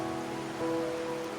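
Steady, soft rainfall patters on a surface in the video game Wuthering Waves, a faint even hiss with no other sounds.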